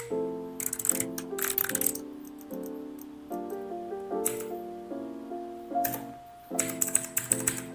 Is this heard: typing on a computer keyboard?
yes